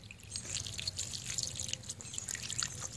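Water drips and splashes steadily in small bursts as a baby armadillo plays in it, a light continuous trickle close by with no talking.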